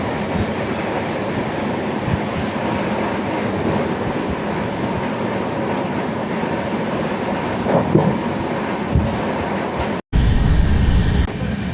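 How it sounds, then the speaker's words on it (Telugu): Konark Express train running on the rails between Chityal and Nalgonda, a steady loud rumble of wheels and carriage noise throughout, with a brief sharp cut and a louder burst near the end. "సో ఈ ట్రైన్ అయితే చిట్యాల నల్గొండ రూట్ నుండి అయితే వెళ్తుంది"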